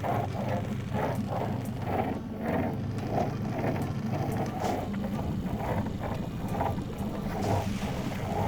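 A fishing boat pushing through water on a river, with rhythmic sloshing and splashing pulses roughly every half second over a low engine rumble and wind noise.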